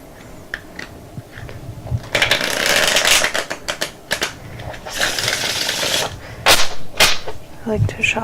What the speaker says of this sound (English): I like to shuffle between the two halves of the Celtic cross spread.